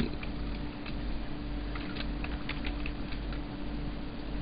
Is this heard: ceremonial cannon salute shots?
no